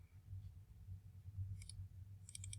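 A computer mouse double-clicks twice in quick succession, sharp and close, with faint low hum beneath during map symbology work in QGIS; no voice.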